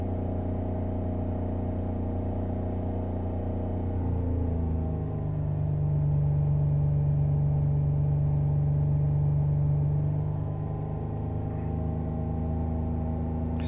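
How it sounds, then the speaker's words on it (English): A 2007 Jaguar X-Type 3.0 V6 with misfire faults, revved in place from around 3000 RPM, its steady drone rising to a higher held pitch midway, then easing back down. "Let me rev a little bit more,"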